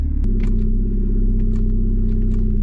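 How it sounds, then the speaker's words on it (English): A Nissan turbo car engine idling while warming up, a loud, steady low rumble with an even pulsing beat, close up, with a few faint clicks and knocks over it. "I'm gonna let this thing warm up real quick"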